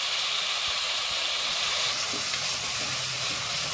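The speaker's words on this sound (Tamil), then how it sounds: "இஞ்சி பூண்டு பேஸ்ட் போட்டிருக்கோம்." Ginger garlic paste fries in a pan, a constant close sizzle with soft hiss and faint stirring underneath.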